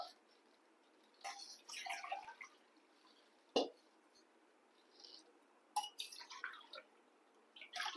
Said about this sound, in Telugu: 6 గ్లాసులు నీళ్ళు పోసుకోవాలి మనం.